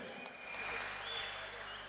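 A boxing-event crowd in a Kazakhstan versus Kyrgyzstan bout (Zhumabek Tursyn against Rasul Tezekbaev) claps for the fighters, giving a faint, steady, far-off patter of applause through the short moment, with a voice mixed in.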